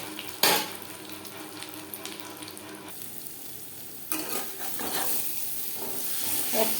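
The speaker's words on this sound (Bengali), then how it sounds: "লো টু মিডিয়াম ফ্লেমে ডিম ভেজে নেব।" Fish roe fries in a pan over low to medium flame, a soft continuous sizzle with a sharp pop early on and light clinks of a utensil against the pan, heard close up.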